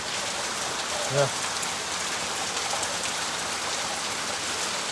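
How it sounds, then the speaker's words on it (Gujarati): Steady, heavy rain hisses continuously, with one brief, faint tonal blip early on. "તો ફેમિલી જેવો અત્યારે કે પાછો વરસાદ ચાલુ થઈ ગયો છે"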